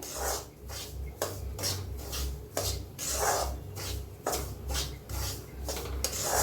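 Fine semolina being dry-roasted in a pan for a Raksha Bandhan thali, stirred continuously: repeated rhythmic scraping and rubbing strokes of a spoon against the pan, close and steady over a low hum.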